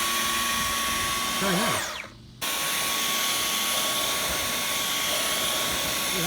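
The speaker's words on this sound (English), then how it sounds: "you can vacuum like this" A Dyson V11 Torque Drive cordless vacuum cleaner runs in a car interior while cleaning the seats, a loud steady whine with a tonal hum that briefly drops away and returns, with a short spoken remark.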